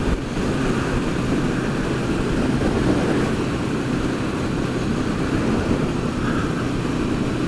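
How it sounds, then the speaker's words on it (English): A Honda CL500 motorcycle on an autumn afternoon ride, with a steady engine drone and wind rush that hold even and loud throughout, with no talking. "a Wednesday afternoon autumn ride on the Honda"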